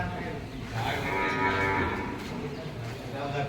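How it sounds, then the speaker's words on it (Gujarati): Gir cows low in a cowshed, several drawn-out moos overlapping at moderate distance over a low ambient background. "બધી અહીંયા જો ગાયો, બધી ગીર ગાયો છે બધી."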